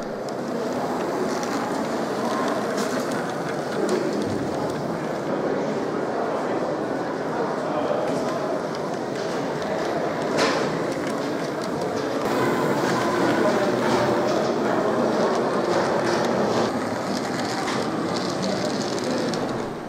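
H0 scale model trams circle a club layout depicting a turning triangle and depot, giving a steady low rumble and clatter of small wheels on track under continuous narration.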